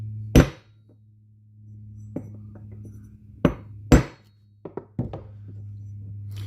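A 17mm socket is tapped with a hammer to seat a distributor oil seal on a Mk2 Golf 16v, giving several sharp metallic knocks spaced irregularly over a low steady hum, close by.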